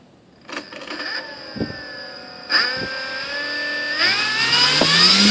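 Electric motor and propeller of a Volantex ASW-28 RC glider on a bench test, whining up in steps of rising throttle with a buzzing tonal pitch, close and loud, growing steadily stronger.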